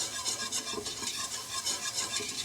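A spoon stirs milk into a thick mac and cheese paste in a pot, a continuous soft scraping and wet swishing sound, close and fairly quiet with no voices.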